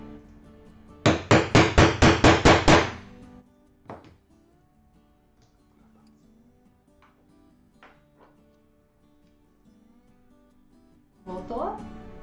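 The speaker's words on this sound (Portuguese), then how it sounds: "E aí eu vou martelar aqui" Hammer strikes setting a metal eyelet on a decorative silver-leaf craft panel: a quick run of about eight loud, sharp metallic blows close by, then quiet handling sounds, with a voice speaking near the end.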